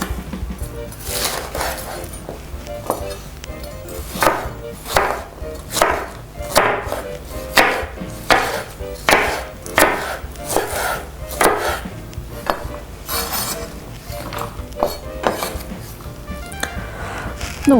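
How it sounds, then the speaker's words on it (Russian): Close, crisp knife chops dicing sweet bell pepper on a cutting board in a fast, uneven rhythm, many sharp strikes in a row with short pauses. "приступаем к нарезке сладкого перца"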